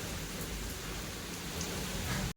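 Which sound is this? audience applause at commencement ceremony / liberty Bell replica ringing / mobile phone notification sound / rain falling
rain falling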